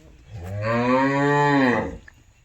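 A single long, loud bovine moo from nearby, a low rising bellow held for over a second before trailing off, with no other sounds around it.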